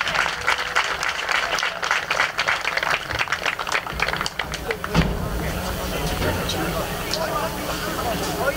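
Crowd applauding at a high school boys soccer game, a dense, steady wash of clapping heard from amid the stands, with a busy murmur of chatter mixed in that thins somewhat partway through.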